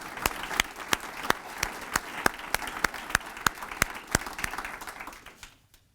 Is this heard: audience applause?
yes